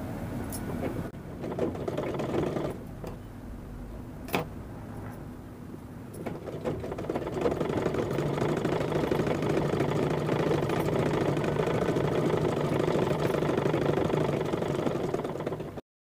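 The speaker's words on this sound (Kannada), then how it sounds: "ಇನ್ನ ಒಂದು ಹೊಲಿಗೆ ಹಾಕಬೇಕು." An electric sewing machine stitching a saree blouse runs in a steady, rapid mechanical whir, pausing and restarting early on before settling into a long continuous run at close range.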